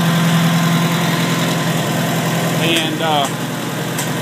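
A 1964 Farmall 140 tractor engine runs steadily and loudly up close, a continuous low rumble with vibration, while someone speaks briefly over it.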